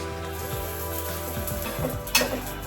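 Patishapta pitha, a kheer-filled rolled crepe, frying in a little ghee in a pan, giving a steady soft sizzle with some faint utensil handling and a brief louder scrape near the end.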